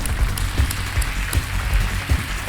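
A game show studio audience applauds steadily in a dense, even wash of clapping with a few sharper peaks, close and continuous throughout.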